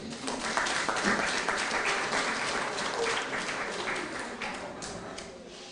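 Audience applause for a writer of a piece in a community heritage climate change production, steady dense clapping filling the room throughout, moderately loud with no talk over it.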